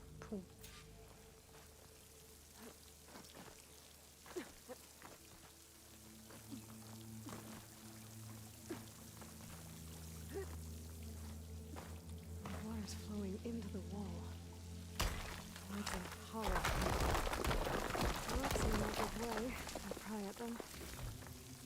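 Rushing waterfall water in the video game Horizon Forbidden West, a soft pouring wash under ongoing talk that swells louder and fuller toward the end.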